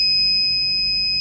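Buzzer of a simple home security alarm system, a single continuous, steady electronic tone sounding loud and unbroken for just over a second.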